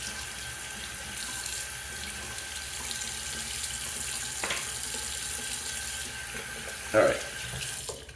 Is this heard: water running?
yes